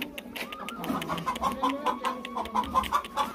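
Chickens cluck in a steady, rhythmic series close by, with some bird chatter mixed in.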